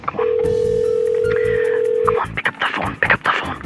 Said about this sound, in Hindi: pick up the phone, pick up the phone,